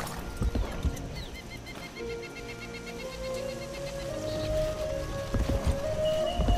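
Horse hooves clip-clop as a mount moves in the video game Sacred 2, a steady run of light clopping steps with a faint rising game tone behind it, no talk.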